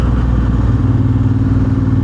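Honda Africa Twin CRF1100 motorcycle fitted with an Akrapovic titanium race exhaust, a loud, steady deep engine drone with a strong low rumble, close up and alone.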